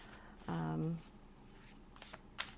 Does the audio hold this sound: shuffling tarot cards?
yes